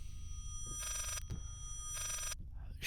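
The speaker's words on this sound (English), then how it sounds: "I hear a bell ring or phone." Telephone bell ringing in the Layers of Fear video game: two loud, sustained electronic ring bursts separated by a short pause, over a low rumbling background.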